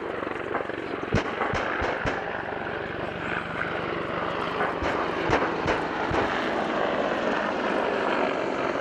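Apache attack helicopters drone steadily overhead at an airshow with a continuous rotor and engine roar, punctuated by several sharp bangs and thumps from a simulated rocket attack.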